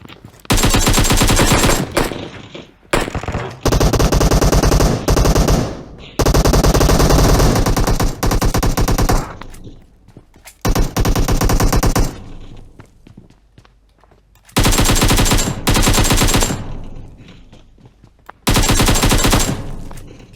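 Automatic gunfire in the mobile shooter PUBG Mobile: long, loud, close bursts of rapid machine-gun fire broken by short gaps over about twenty seconds, with thuds between bursts and almost no talk.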